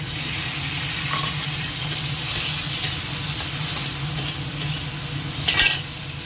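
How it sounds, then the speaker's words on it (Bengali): Prawns and tomato fry in a pan with a steady loud sizzle and hiss, broken by occasional soft stirring scrapes and one sharper clatter near the end, with no speech. "চিংড়ি মাছগুলো দিয়ে দিই আর একসঙ্গে টমেটোটাও দিয়ে দিই"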